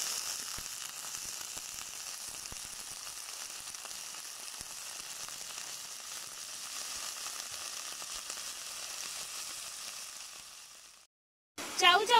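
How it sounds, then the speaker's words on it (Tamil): Chayote pieces sizzling steadily in hot oil with onions in a pan, a continuous bright frying hiss that carries on alone for about eleven seconds before cutting off briefly. "இப்ப எடுத்து வச்சிருக்க சவு சவு சேர்த்துக்கிறேன்."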